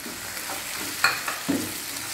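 Vegetables for a veg biryani sauté in a pan with a moderate sizzle and a few soft scraping stirs and light clinks over about two seconds.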